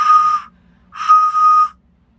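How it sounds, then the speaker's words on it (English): A pre-Columbian South American clay whistle blown in two clear, steady notes, the first short and the second longer, loud and close with silence between. "Let me see if it does whistle."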